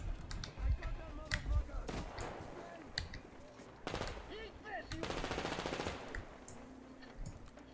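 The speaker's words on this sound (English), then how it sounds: "Who the fuck is shooting at us?" Bursts of automatic gunfire and sharp single shots crack through a Metro Exodus firefight, loud and close in several clusters, with a long rapid rattle near the end.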